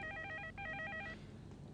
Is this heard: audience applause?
no